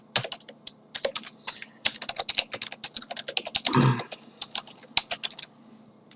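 Typing on a computer keyboard, a quick irregular run of crisp close key clacks with a louder clustered burst in the middle, fairly quiet overall with no talking.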